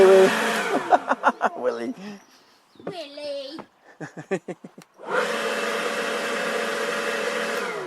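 A WorX 40V yard blower starts with a steady, loud whooshing roar in the final seconds, following earlier stretches of voices and animal-like calls.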